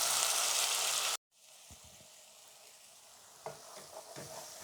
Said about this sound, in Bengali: মশলাটা ভালো করে একদম কষিয়ে নিয়েছি।